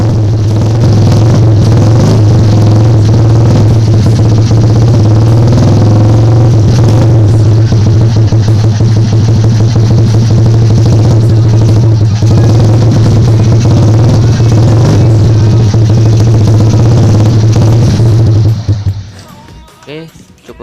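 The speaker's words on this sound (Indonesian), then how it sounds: "ini dia knalpotnya sudah terpasang dan coba kita akan tes suaranya ya" A Honda Astrea Grand motorcycle with a freshly repaired leaking exhaust runs with a loud, steady engine drone at close range for about eighteen seconds, then cuts off abruptly.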